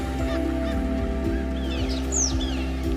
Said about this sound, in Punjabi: ਇਹਨਾਂ ਪੰਛੀਆਂ ਦੀ ਪਰਵਾਜ਼ਾਂ ਨੂੰ ਵੇਖਣਾ ਅਤੇ ਇਹਨਾਂ ਦੀ ਆਵਾਜ਼ਾਂ ਸੁਣਨਾ ਆਪਣੇ ਆਪ ਵਿੱਚ ਇੱਕ ਮਨਮੋਹਕ ਨਜ਼ਾਰਾ ਹੈ